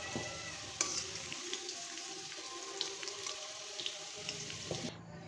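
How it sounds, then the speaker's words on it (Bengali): Cut potatoes frying with salt in hot oil, a steady close sizzle with occasional stirring clinks throughout and no voices. "গরম হয়ে গেলে দিয়ে দিলাম কেটে রাখা আলুগুলো সামান্য লবণ দিয়ে ভেজে নিচ্ছি"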